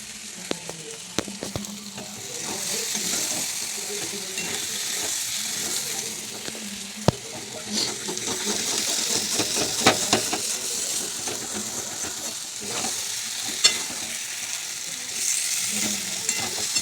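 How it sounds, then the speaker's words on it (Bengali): Spices being sautéed in a pan, a steady sizzle with repeated spatula scrapes and taps close by, and faint murmurs of speech in places. "ভালো করে কষে নিই"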